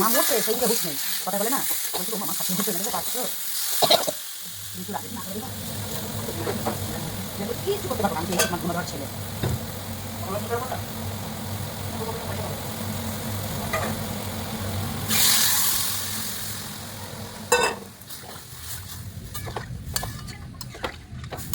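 Hilsa fish and taro sauté in oil with salt and turmeric, giving a continuous frying sizzle with stirring and utensil scrapes, plus a brief burst of louder crackle near the end.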